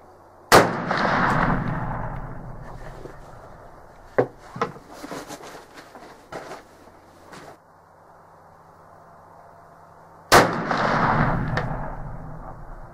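Two loud, sharp shots about ten seconds apart from a Traditions Pursuit muzzleloader rifle loaded with 120 grains of Blackhorn 209 powder, each booming close by and rolling off in a long decay, with a few dull knocks and thumps in between.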